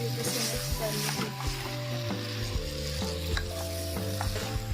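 Fried potatoes being stirred into an eggplant curry in a pan, with a steady sizzle under repeated knocks and scrapes of a spoon against the pan, close and moderately quiet.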